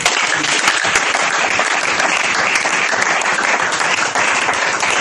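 Church congregation applauding the Lord at a divine visitation service, dense and sustained clapping that fills the room steadily from start to finish with no voices on top.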